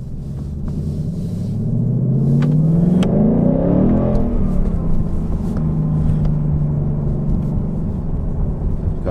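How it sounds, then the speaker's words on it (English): A 2019 Ford Mustang GT base model drives off with a loud, close engine rumble that climbs in a rising rev around two to four seconds, then settles into a steady powerful drone. "So we're gonna take the Mustang on a quick spin."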